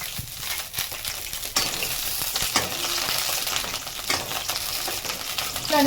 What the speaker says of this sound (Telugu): ముందుగా మనము కొద్దిగా మిర్చి అయితే ఫ్రై చేసి తీద్దాము